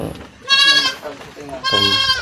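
Goats on a goat farm bleat loudly and close by in two long, wavering calls separated by a short pause, with some background noise between them.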